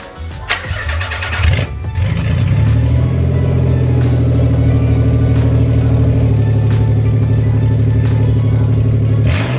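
Nissan 300ZX Z32 engine with rubber hoses removed, cranking and starting up, then settling into a loud, steady, close idle rumble with a few light revs.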